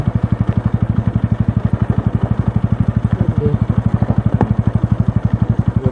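A motorcycle runs close up on a night ride, its engine pulsing in a fast, even, loud throb that holds steady throughout, with faint rattles over the top.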